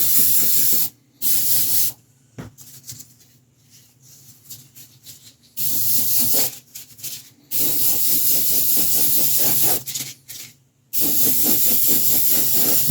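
Airbrush spraying a light coat of paint onto a 1/6 scale Predator figure, close hiss coming in several bursts of one to three seconds separated by short quiet pauses, with faint handling noise in the gaps.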